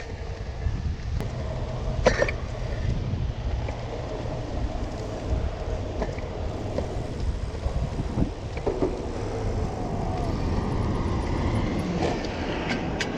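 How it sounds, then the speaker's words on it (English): Gusty wind buffets the microphone outdoors during a ride on a single-speed e-bike, a continuous low rumble with soft whooshing swells throughout and no talk. "Woo, it's windy."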